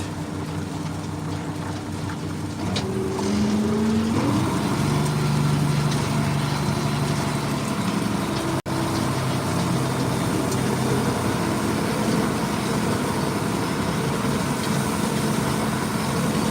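A tractor engine rumbles up and settles into a loud, steady running drone close by as a hay rake is put into gear, the tone shifting slightly as it picks up.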